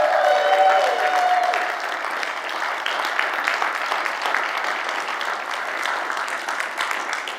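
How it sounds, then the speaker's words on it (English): A church congregation at a Sunday service annual meeting bursts into warm applause, many hands clapping steadily and close, tapering slightly over several seconds, with a brief tone sounding at the start. "please turn your attention and applause to Andy Robbins"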